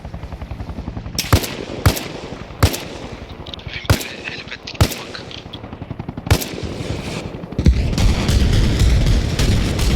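Loud bursts of machine gun fire ring out in sharp, repeated volleys over a rumbling mechanical drone, ending in a sustained roar, in the video game Arma Reforger.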